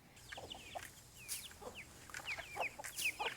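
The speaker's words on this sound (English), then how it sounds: "we raise chickens" Chickens on a homestead cluck and chirp in short, scattered bursts, fairly faint and at a moderate distance, with no voices over them.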